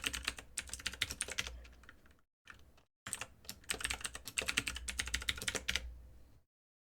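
A password being typed on a computer keyboard, close and clear, with rapid bursts of keystrokes, a brief pause in the middle, then another quick flurry of clicking before it stops. No one speaks.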